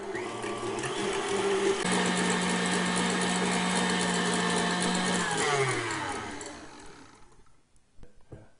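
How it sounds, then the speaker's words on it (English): A mixer with a whisk attachment beats egg whites on high speed, a steady whirring motor drone that shifts pitch partway through, then winds down and stops near the end, with no talking. "Using the whisk attachment, I'm going to beat the egg whites into stiff peaks, which takes about 3 or 4 minutes on high speed."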